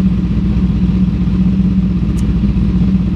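A cold motorcycle engine warming up at a steady idle, close and loud, with a constant low rumble and a fine rapid exhaust pulse throughout, alone with no talking.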